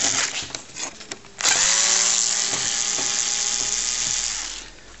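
An electric screwdriver whirs steadily for several seconds while backing screws out of a TRS-80 computer case, preceded by brief handling clicks and ending as the motor stops.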